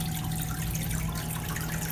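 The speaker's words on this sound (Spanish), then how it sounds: "solo está tirando agua" Steady wide wash of running, splashing water from a Manitowoc commercial ice machine dumping water instead of making ice, with a constant hum beneath, close and continuous without speech.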